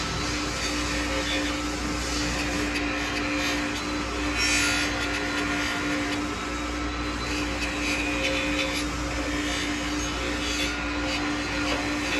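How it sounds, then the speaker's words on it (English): A metal frame part is deburred with a steady, continuous scraping and rasping against the metal, unbroken throughout over a constant background hum. "Just trying to get rid of all the burrs."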